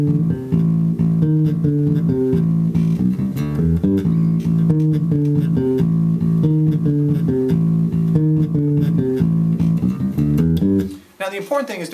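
A bass guitar plays a chop-builder practice exercise, a steady, repeating run of plucked notes at an even pace that continues loud and alone for about eleven seconds before stopping, followed by a brief trailing sound.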